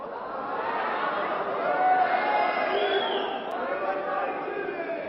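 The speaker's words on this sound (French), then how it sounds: "Le public éclectique et parfaitement connaisseur de l'Élysée-Montmartre, applaudissant du gosier, si j'ose dire, par des rouquements fanatiques" A boxing crowd at the Élysée-Montmartre roars and shouts in a sustained, dense wash of cheering voices, fairly loud and swelling midway, with a commentator's voice mixed in.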